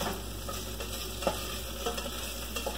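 Leftover turkey curry sizzling in a pan, a steady close frying hiss punctuated by a few soft stirring clicks and scrapes, with no talking over it.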